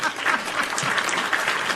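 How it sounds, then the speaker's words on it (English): Dense audience applause from a crowd, steady and fairly loud throughout a short burst, with no speech over it. "Round of applause."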